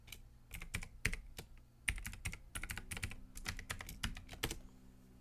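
Someone types a password on a computer keyboard while setting up a Windows 10 machine, with crisp, close keystrokes in quick irregular runs and short gaps, and no talking.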